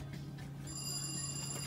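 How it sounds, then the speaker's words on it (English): A loud telephone rings at the Guntersville Dam lock, a steady electronic bell tone that starts partway through over a constant low hum, with no talking. "You know how loud that phone is whenever someone calls in?"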